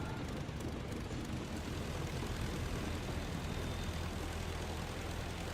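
Propeller aircraft engine idling and rumbling while taxiing in the WWI flight simulator Rise of Flight, a steady, loud, continuous drone with no talking.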